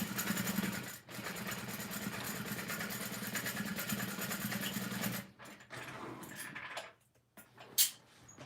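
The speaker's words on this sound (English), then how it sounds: "I'm sewing right next to the interfacing, and I'm going from stitch line to stitch line." A sewing machine runs steadily as it stitches a tote bag near the interfacing, humming evenly for about five seconds before stopping, followed by faint handling noises and a brief clatter.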